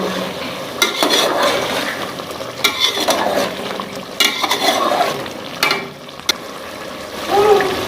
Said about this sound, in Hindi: अब इसे मिक्स करेंगे